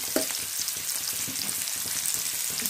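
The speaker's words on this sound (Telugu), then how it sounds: "ఇప్పుడు ఇవన్నీ బాగా మిక్స్ చేసుకొని ఫ్రై చేసుకోవాలి" An egg fry with red chilli powder frying in a pan, a continuous close sizzle broken by scraping stirs and light clinks, with no talk.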